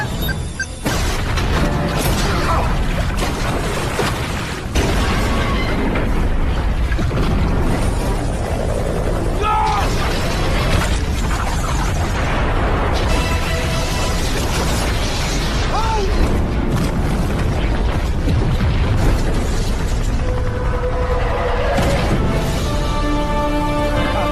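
Bombs going off throughout a building in an action movie, a loud, continuous barrage of blasts, booms and crashing debris mixed with mechanical noise across the whole span.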